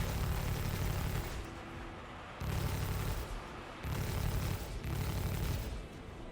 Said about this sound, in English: and now the NPCs are shooting at me.